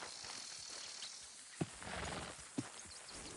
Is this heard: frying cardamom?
no